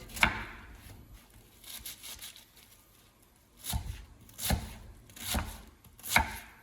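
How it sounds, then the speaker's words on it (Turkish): A knife chops onions on a board in a handful of sharp, irregular strokes, close by, with quiet pauses between bursts. "Katmer için soğanları doğruyor."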